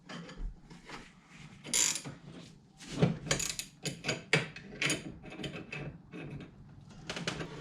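A wrench ratchets during U-joint replacement on a 1967 Chevrolet Corvette, giving close, irregular bursts of metallic clicking with short pauses between strokes and no talk.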